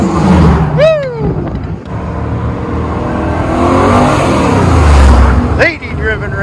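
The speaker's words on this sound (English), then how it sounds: "Listen to that supercharger." Supercharged car accelerating past at a car cruise: a loud, rising whine and engine roar swelling as it nears and fading away, with excited spectator whoops and shouts around it.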